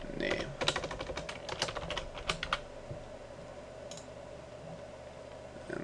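Rapid bursts of clicking keystrokes on a computer keyboard while code is entered for an XNA game project, close and crisp for about three seconds, then trailing into quiet room hum with a few isolated taps.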